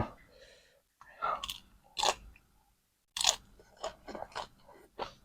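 Close, crisp crunching and chewing while eating spicy mala shrimp, several distinct bites separated by short pauses.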